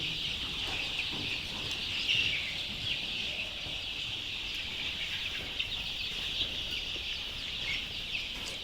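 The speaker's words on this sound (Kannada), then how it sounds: "ರೈತರಿಗೋಸ್ಕರ ಬೆಳೆಸ್ತಾ ಇರುವ ಮರಿಗಳು ನೋಡಿ" A flock of one-month-old native country chicken chicks on a farm keeps up a steady, dense chorus of high peeping. The sound is continuous and fairly close, with no talking.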